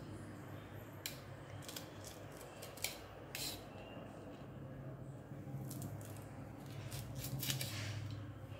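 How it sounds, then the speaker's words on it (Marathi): Fresh green chillies being slit with their stems left on: a few crisp, close cuts come at uneven intervals over a low, steady kitchen background, with no speech. "याप्रमाणे मिरच्यांना चिरा देऊन झालेले आहेत"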